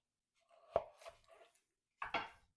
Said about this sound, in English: I'm going to chop these guys in half.